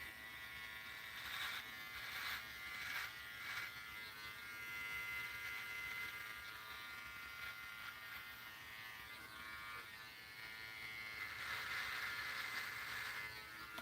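A Head Shave Club Earl electric head shaver set to 7,000 RPM runs close up with a steady, continuous buzzing whine whose pitch and loudness swell slightly throughout, and no voice over it.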